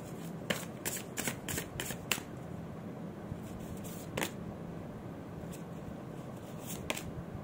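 Tarot cards are handled and shuffled in quick crisp riffling bursts, close and fairly quiet, with pauses between the shuffles and no talk.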